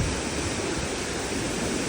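Rain-swollen water at Kodaikanal rushes strongly in a steady, dense roar of broadband noise, close and constant with no voices over it.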